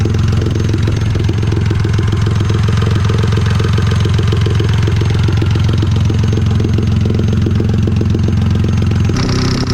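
A turbocharged go-kart engine idles loudly and steadily at close range while warming up, with a rough, even putter and clattering throughout, changing slightly at the very end.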